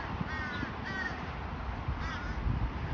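Crows caw in a rooftop setting where adults feed a large juvenile, giving several harsh, rasping calls in quick bursts over steady background noise, fairly close and without talking.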